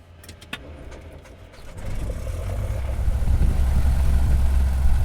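A four-seat propeller airplane's engine starts up on the tarmac, a few faint clicks giving way to a low rumble that swells and grows steadily louder, with no talking.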